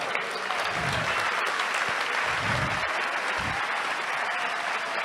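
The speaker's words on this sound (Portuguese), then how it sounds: "Vamos aplaudir ao Mestre." A church congregation bursts into sustained, loud applause, dense clapping from many hands filling the room evenly for several seconds, with low thumps underneath.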